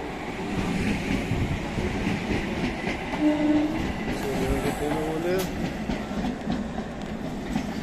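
A train runs steadily on rails with a continuous loud rumble and rattle, a brief horn-like tone in the middle, and people talking faintly underneath.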